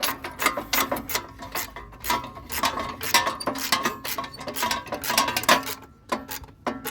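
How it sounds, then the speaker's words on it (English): A 7/16 socket ratchet tightening the cowl bolts on an MTD snowblower, with rapid clicking ratchet bursts and metallic clinks, close and fairly quiet, no talking. "got our 7/16 socket and just tighten them up here"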